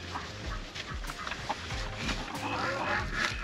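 Backyard hens clucking softly in short, scattered calls as foraged wild greens are tossed over to them, with some low rustling and outdoor background noise.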